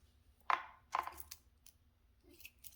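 Scissors snip through embroidery floss with two close, crisp cuts followed by a few faint rustles of thread handling, quiet and near with no talking.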